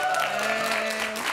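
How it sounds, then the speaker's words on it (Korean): Studio audience claps for a performer on a Korean morning TV talk show, a dense, steady burst of applause lasting just over a second with a voice faintly beneath it. "박수로 보내주세요"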